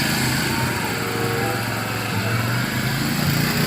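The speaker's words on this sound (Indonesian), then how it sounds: "ternyata ini bajai" Toy Bajaj auto rickshaw with a small buzzing engine sound, a steady high-pitched motor drone running continuously at moderate loudness with no talk.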